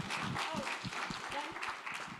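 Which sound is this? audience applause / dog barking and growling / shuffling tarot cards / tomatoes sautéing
audience applause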